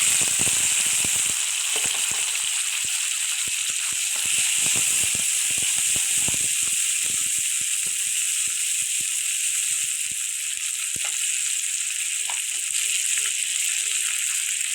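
A large chopped onion fries in hot oil for a rohu fish curry with potato and eggplant, giving a steady loud sizzling hiss with scattered crackles and pops throughout.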